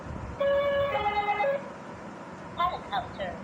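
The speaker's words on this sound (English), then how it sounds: "Ambulance." Electronic ambulance siren from a children's talking book, a short two-tone wail of about one second, then a brief second burst after a pause, played small and tinny over a hissy background.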